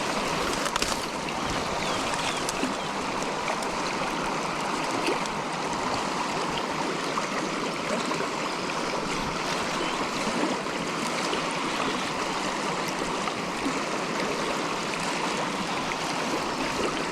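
The River Whiteadder flows in a steady, broad rush of water with no pauses, heard alone at an even, moderate level.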